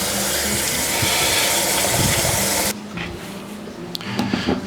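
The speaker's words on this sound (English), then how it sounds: "submerge them in water so they don't oxidize." Cut potatoes dropped into a bowl of water: a loud gushing, splashing wash of water that cuts off abruptly, followed by quieter small clinks and splashes close by.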